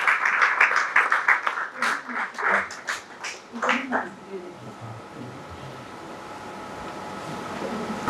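An audience applauds at a poetry book launch ceremony, a burst of dense clapping that thins out and fades within about four seconds, leaving quiet room noise.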